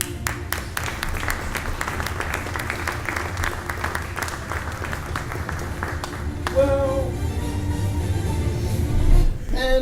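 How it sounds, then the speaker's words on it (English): A congress audience gives sustained applause for a futurist speaker at an international design and technology event, dense clapping filling the room steadily, then shifting near the end into swelling murmurs and a voice taking over. "May I have a warm round of applause for futurist Marcel Bullinga."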